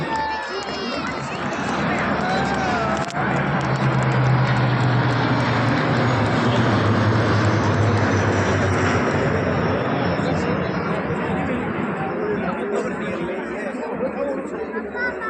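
Military aircraft pass over Kartavya Path in formation during the Republic Day parade in New Delhi, a loud sustained engine roar blending with crowd noise and an amplified announcer's voice.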